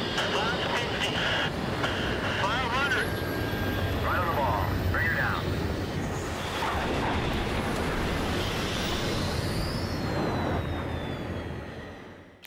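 An F/A-18 Super Hornet landing on an aircraft carrier in the video game Battlefield 3, a steady loud jet engine roar with rushing wind noise throughout, with radio chatter and voices speaking over it before fading at the end.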